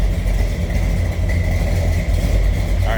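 A 1985 Chevrolet C10 Silverado's big block V8 idles with a deep, loud, steady rumble, close up and continuous for the whole stretch.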